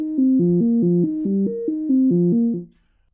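Analog modular synthesizer playing a repeating stepped sequence of tones, its filter modulated by sample-and-hold, giving a steady pattern of pitched notes with shifting brightness before a sharp stop near the end.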